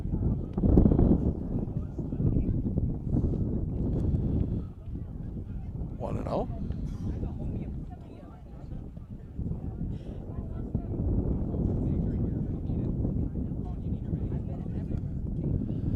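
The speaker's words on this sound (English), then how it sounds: "It has been windy today." Wind rumbles against the microphone in steady low buffeting at a high school baseball game, with an occasional faint sound in the background and no clear talk.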